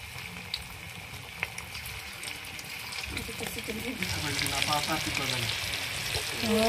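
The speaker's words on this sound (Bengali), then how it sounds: "তো আর একবার আমি পকোড়াগুলো দিচ্ছি ভাজার জন্য।" Chicken pakoras fry in oil with a steady sizzling hiss that builds and grows louder toward the end, while people talk over it.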